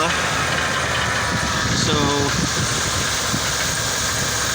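A Ford Colony Park wagon engine runs steadily at idle with a loose rattle from around the flywheel and starter area, a continuous close mechanical clatter under a brief spoken word.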